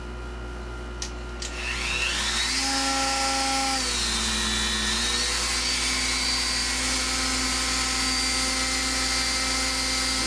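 A small power saw cutting plastic model parts whines loudly and steadily, its motor pitch dipping and rising as it bites into the plastic, with a brief start-up at the beginning.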